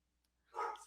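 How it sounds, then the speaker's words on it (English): A dog barks once in the background, a single moderately loud bark arriving after a near-silent stretch, with no talk over it. "can you hear my dog barking this time?"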